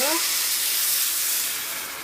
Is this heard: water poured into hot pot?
yes